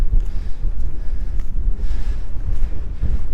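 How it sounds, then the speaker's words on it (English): Strong wind buffets and roars across a hilltop track, gusting unevenly and loud against the microphone with no one speaking. "the wind has definitely got up now"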